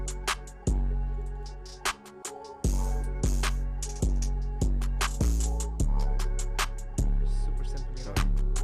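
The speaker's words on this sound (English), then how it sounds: "you have the open hat hit at the same place where the 808 hits." A loud, saturated beat with booming 808 bass hits and sizzling open hi-hats landing together, giving a crunchy, clipped distortion in a steady pattern.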